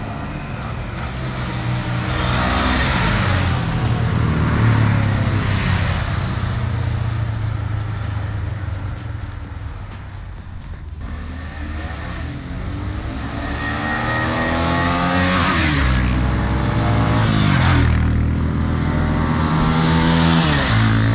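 A KTM 390 Adventure motorcycle rides off-road near Pithoragarh, its loud, close engine rising and falling through repeated revs and gear changes, easing off briefly midway before climbing again.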